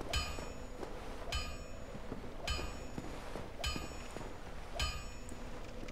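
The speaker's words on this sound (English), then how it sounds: "And I want to see what that hammering is." A blacksmith hammers on metal in the Dark Souls video game, sharp ringing clangs struck in a slow, steady rhythm about once every 1.2 seconds, heard at a moderate distance and fairly quiet.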